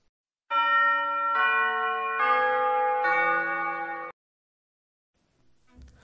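Big Ben, the great clock bell in London, rings four loud sustained strikes in even succession, each richly humming tone overlapping the next before cutting to silence, followed by faint rustling.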